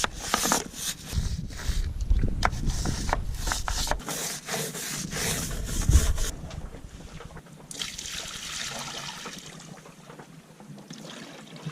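Rhythmic scrubbing of softened dirt on a sailboat deck at sea, a steady rubbing rasp that comes in bursts, with pauses and light wind between strokes.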